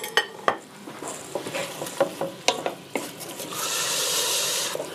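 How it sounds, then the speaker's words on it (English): A utensil stirring lumpy tomato soup in a pot, with repeated sharp scraping clinks against the metal in an uneven rhythm, followed by a steady sizzling hiss toward the end. "Give that a good stir."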